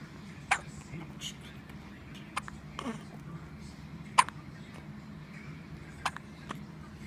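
A baby hiccups several times, short sharp bursts spaced about two seconds apart, close and fairly soft against a quiet indoor background with faint murmuring.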